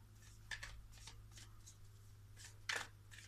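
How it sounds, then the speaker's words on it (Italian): Tarot and oracle cards laid down one after another on a table, giving a few soft, quiet slaps and brushes over a low steady hum, with one louder card near the end. "Adesso voglio mettere giù tutte le carte"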